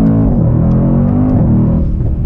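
A car engine revs up under load, its deep harmonic drone rising and falling in pitch as it accelerates, loud and close, with no talking.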